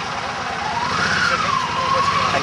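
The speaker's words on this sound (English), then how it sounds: "this is a siren test" A siren test at the start of a motorcycle rideout at Blenheim Palace sounds as a steady wail that rises and falls over continuous crowd and engine noise, with people talking nearby.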